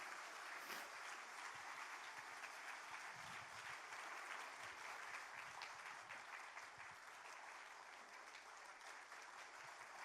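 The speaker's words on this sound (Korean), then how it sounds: "우리 하나님께는 영광의 박수, 우리 목사님께는 환영의 박수." A church congregation at a retreat claps to welcome the pastor, a steady, even round of applause filling the room without pause for about ten seconds, quiet in level.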